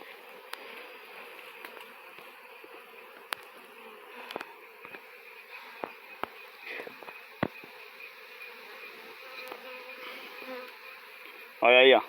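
Italian honey bees at a hive being opened for honey harvest in rural Brazil, a steady close buzzing drone throughout with scattered clicks, ending in a brief loud burst of a bee flying right past.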